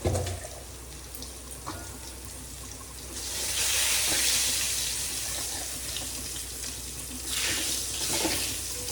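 Kitchen tap running water over ingredients being washed for a chilli and cumin paste, a steady hiss that swells louder midway as the flow hits the food, with no talking.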